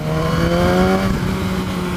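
A BMW S1000R motorcycle engine running smoothly, a loud, steady, close-up drone with a constant pitch and no talk.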